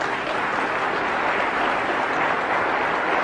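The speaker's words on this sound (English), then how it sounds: "Yeah, you can applaud." Applause from a lecture audience: a dense, even wash of many hands clapping, steady and sustained, with no speech over it.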